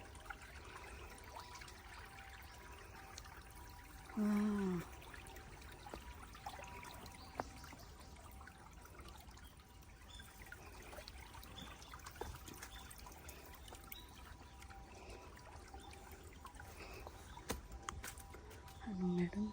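A small stream trickles faintly and steadily through a bamboo park, a soft continuous water sound with a brief voice heard over it.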